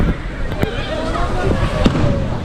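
Fireworks crackle and pop at the Thrissur Pooram festival in Kerala, with a dense continuous roar of bursts and a few sharper cracks, heard amid crowd noise and nearby voices in the rain.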